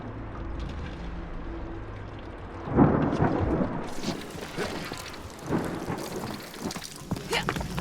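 Thunderstorm in the video game Marvel's Guardians of the Galaxy: steady rain hiss with deep rumbling thunder swelling loudly midway and rolling on, with faint low game ambience underneath.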